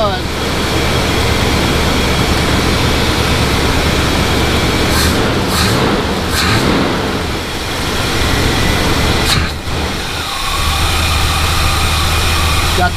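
A carbureted engine with the choke off runs smoothly and steadily, a loud continuous drone with a brief dip partway through.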